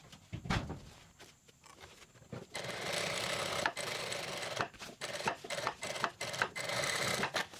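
A sewing machine runs close by, stitching a parallel topstitch along a jeans zipper fly: a short buzz early on, then a long steady whirring run broken by brief stops, with no talking.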